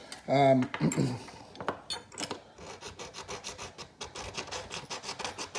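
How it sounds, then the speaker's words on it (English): Abrasive gripping tool rubbed against a metal buzzbait blade and shaft, giving quick rasping scrapes in irregular bursts, with small metallic clinks and a brief louder scrape near the start. "You're just looking to add some scratches to that blade, to that shaft"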